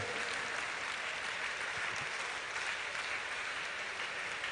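Audience gives sustained applause for contestants at a competition event, a full, steady clapping that holds even throughout and fills the room.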